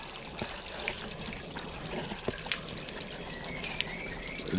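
Water rushing and gurgling through a toilet auto-syphon unit, a steady close wash of flowing, trickling water with a few small splashes throughout, no speech.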